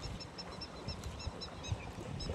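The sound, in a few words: birds chirping by Sunkoshi river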